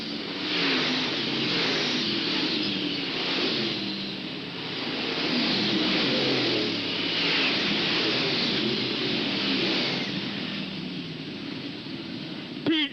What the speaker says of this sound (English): George Scheffler in car number 10 overhauls him on the back chute